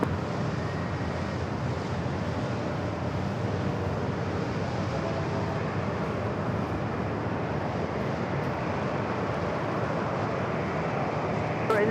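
A Delta airliner takes off on runway 27 at San Diego airport, heard as a continuous broad jet roar with wind rumble, steady and loud for the whole stretch with no break.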